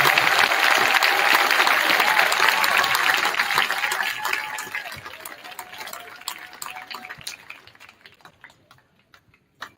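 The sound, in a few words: audience applause for 7th grade band at school concert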